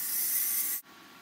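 Hair spray hisses from an aerosol can onto spiral curly hair in one steady close burst that stops abruptly, followed by quiet room tone.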